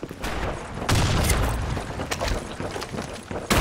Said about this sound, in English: Grenade up front!